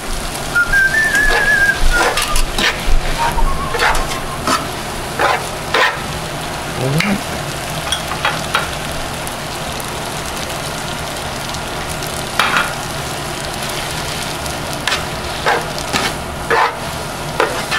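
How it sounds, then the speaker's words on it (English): Spaghetti is tossed in a frying pan with garlic and breadcrumbs, giving a continuous low sizzle with scattered clicks and scrapes from stirring. A brief whistle sounds near the start. "we'll toss the spaghetti right in here in the pan"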